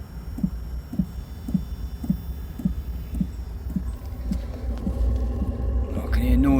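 A maXpeedingrods 12V 5KW diesel heater running with combustion, its fuel pump ticking in a steady rhythmic pulse over a low rumble, the whir building louder near the end.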